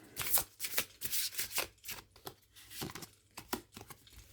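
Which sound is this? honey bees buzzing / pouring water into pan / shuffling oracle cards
shuffling oracle cards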